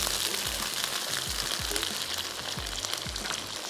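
Okra and green chillies frying in oil over lowered heat, giving a steady, close sizzle that fills the whole stretch with no talking.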